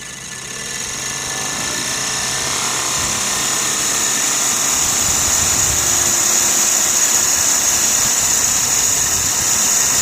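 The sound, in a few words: Sirius steam engine generator running with boiler cranked up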